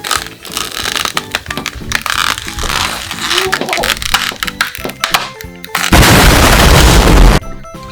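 A firecracker-like bang from a pulled strip on a gingerbread house, heard among busy clatter and thumps before a loud, sustained burst of hiss and crackle lasting over a second, then quiet.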